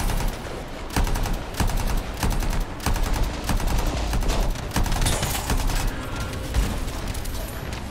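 Enemy gunfire in the video game Anthem: a dense, sustained run of sharp shots cracking one after another for about eight seconds, loud and close, with no voices over it.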